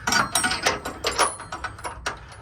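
Subframe bolts on a Honda S2000 are threaded in by hand, giving a run of quick metallic clicks and ratcheting taps, close and fairly loud, with no talking.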